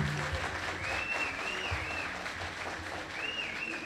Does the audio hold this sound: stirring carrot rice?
no